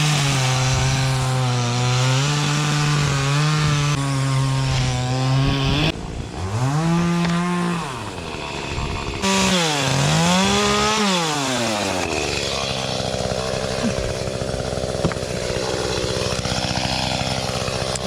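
A chainsaw trims the base of a tree in a backyard: a loud, close engine buzz holds steady, then dips and rises through repeated cuts and revs, with no talk.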